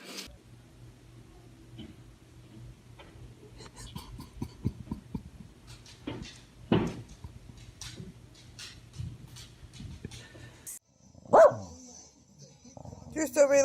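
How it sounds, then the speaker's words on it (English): A playful dog lying upside down barks in short bursts while people talk and coax in cheerful voices, with the barks near and moderately loud among the chatter. "you just lay upside down and bark?"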